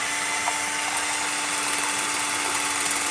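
Ryobi lawnmower running nearby, a constant even electric whine and hum with no breaks or speech.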